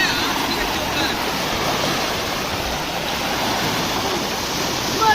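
Steady rushing water flowing through a canal in the Cholistan area near Bahawalpur, a continuous broadband wash with light wind, constant in loudness and with no clear speech.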